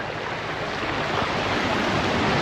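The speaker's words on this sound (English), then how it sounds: "The sea is so calm and clear." Calm sea at a beach on Mahé, Seychelles, giving a steady, soft wash of gentle surf with light wind noise, continuous and close, with no voices.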